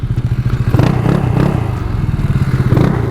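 Yamaha Aerox scooter engine running close by, a loud, steady motor hum with a pulsing rhythm that swells in a couple of revving surges, alone without talk.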